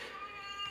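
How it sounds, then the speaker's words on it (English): A house cat meows faintly in the background of a room, a brief, steady mewing tone rather than loud or close. "Apologies for my cat in the background."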